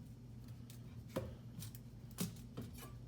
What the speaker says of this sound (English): I'm going to take my knife and I'm going to cut right down the middle, just like that